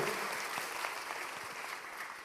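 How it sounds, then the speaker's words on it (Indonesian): Faint, steady applause from a church congregation during a sermon, continuous soft clapping heard from a distance with no voice over it. "Beri tepuk tangan dulu"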